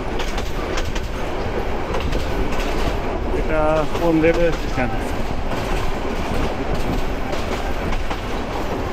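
Rumble and rattle of the Haor Express night train running inside the carriage, a steady loud clatter throughout, with a voice speaking briefly over it midway.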